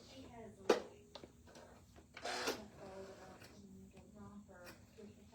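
A Janome MC 9450 sewing machine runs a short back tack, its mechanical whir and clicks rising in brief bursts with a louder clack, under a person talking.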